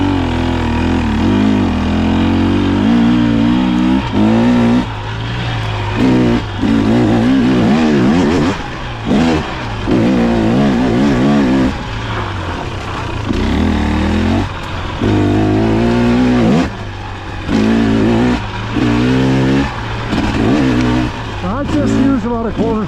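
A KTM 300 XC TBI two-stroke dirt bike, 2023 model with revalved suspension, ridden in second gear at about quarter throttle, its engine droning loudly and steadily with rhythmic dips and surges while a rider talks over it.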